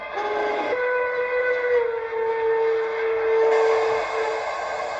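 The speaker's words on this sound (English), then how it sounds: "F2 is a short whistle." A steady steam whistle blows in one short sustained blast over the rumbling hiss of an Aristocraft C-16 model steam locomotive with a Zimo MX696 sound decoder, clear and close, with no voices.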